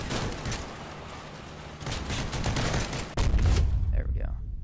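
Rapid machine-gun bursts in the vehicle combat game Crossout, dense crackling fire running through most of the stretch alongside explosions and heavier blasts, with a player talking over the action.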